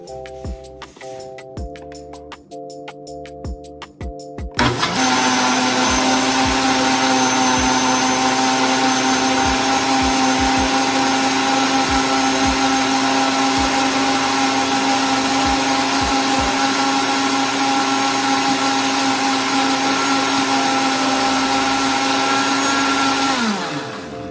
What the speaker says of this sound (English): We're going to blend that on high until it's nice and frothy.